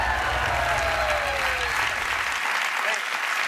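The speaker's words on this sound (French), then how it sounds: "Vous l'avez applaudi 2 fois." A television studio audience at a French-language talk show applauds loudly and steadily, the dense clapping filling the room, while voices talk over it.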